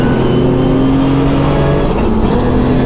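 A car's engine drones loud and close from inside the cabin as it accelerates through the gears on a big 4-mile race track, a steady, strong roar with no voices.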